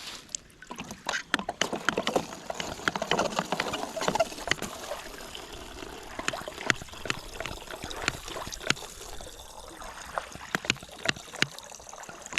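Water pours and trickles into a bottle at a wild campsite. Faint splashes and drips come in irregular bursts at close range.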